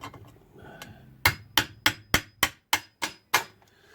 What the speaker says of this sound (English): See if I can get a chisel in there with a hammer.